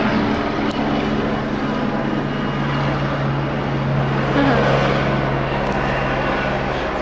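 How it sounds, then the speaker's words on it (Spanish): A helicopter passes overhead on a mild day above a home patio, its steady engine drone and rotor hum filling the air at moderate loudness with little change throughout. "Un helicóptero más bien."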